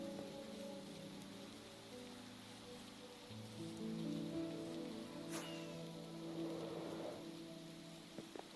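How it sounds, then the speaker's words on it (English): Rain falling in Minecraft on a farming survival server, a soft, steady patter and hiss of raindrops, faint and continuous, with tonal game music or hum layered underneath and no talking. "About time to stop raining."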